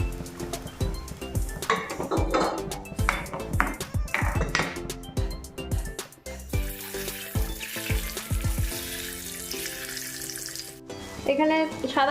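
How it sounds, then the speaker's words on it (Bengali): Chopped onion, green chilli and ginger fry in white oil, crackling loudly and close with repeated stirring clatters and scrapes of a utensil against the pan, alone without voices. "এখানে সাদা তেলের মধ্যে একটা বড় পেঁয়াজ কুচি করে নিয়েছি, আর কাঁচা লঙ্কা, আদা কুচি সব দিয়ে দিয়েছি। একটু ভাজা ভাজা হোক।"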